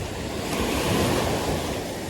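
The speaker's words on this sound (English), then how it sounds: "you can notice that the water and the waves stop crashing" Ocean surf rolls onto a New Jersey beach during a thunderstorm, a continuous close wash of waves with wind buffeting the microphone and no talking.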